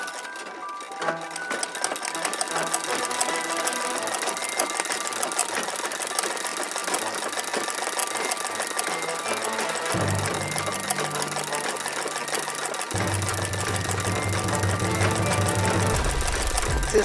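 An embroidery sewing machine stitches on a hoop in a steady, fast, continuous needle rattle that stays close and even throughout, with a lower hum joining toward the end.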